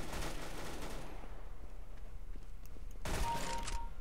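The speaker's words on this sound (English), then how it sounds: "Urgh, shotgun." Shotgun fire in the video game Counter-Strike: Global Offensive comes as two faint, noisy blasts, one at the start and another near the end, separated by a quiet stretch.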